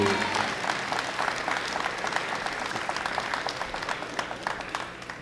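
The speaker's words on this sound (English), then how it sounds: "we're going to give one more big round of applause to all our athletes as they walk off" Audience applause at a world bench press championship, men's masters classic 93 kg class: a dense, steady round of clapping from the crowd, loud at first and gradually easing off over a few seconds.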